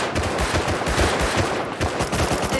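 Rapid, dense gunfire in the video game Rust, loud and continuous with overlapping shots from more than one weapon throughout.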